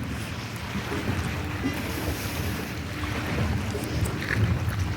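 Houseboat afloat near Kolkata, with steady broadband rumble of water and wind buffeting the microphone, a continuous wash without distinct events and no voices.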